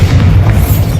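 A loud, close Bombarda spell explosion from the Hogwarts Legacy video game, a heavy booming blast that rumbles steadily for the whole second with no pause.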